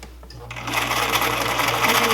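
A sewing machine runs in a rapid, steady zigzag stitch over stretched elastic for a tube top, starting up after a brief quiet moment and continuing loud and close with no talking.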